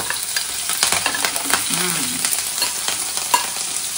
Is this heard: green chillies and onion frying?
yes